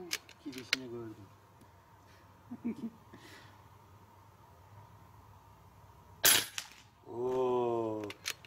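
One sharp, loud report from an FX Boss .30 calibre PCP air rifle firing a pellet outdoors cuts through, framed by people talking and cheering before and after.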